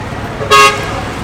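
A single short car horn toot sounds once over a low hum of street traffic in Danang, Vietnam, fairly close and clear.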